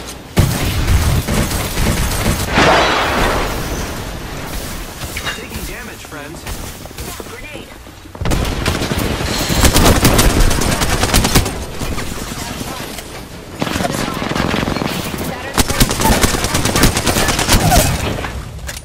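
Repeated bursts of gunfire from Apex Legends, loud and dense with sustained automatic volleys and booming shots in several waves, mixed with game voice callouts.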